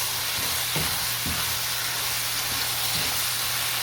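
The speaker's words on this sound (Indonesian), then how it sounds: "Lalu masak dan ditumis-tumis lagi." Tofu sizzles steadily as it is stir-fried in a pan with a little salt, a continuous close frying hiss broken by a few soft scrapes of stirring.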